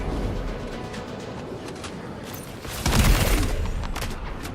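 Gunfire in the video game Death Stranding 2 during a dark night fight around a vehicle, a steady rumbling volley of shots that swells into a louder burst midway, then trails off into faint scattered shots.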